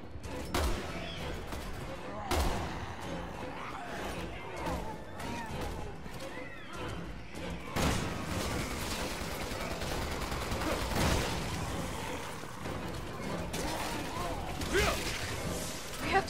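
Gunfire from the video game Resident Evil 6 during a co-op walkthrough, with sharp shots scattered among mechanical game noises, a horse's whinny and background commotion, with voices talking over parts of it.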